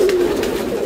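A female Teddy pigeon, a pure Banka type without markings and with a green neck, coos close up in a steady low burbling call that runs the whole moment with no talk over it.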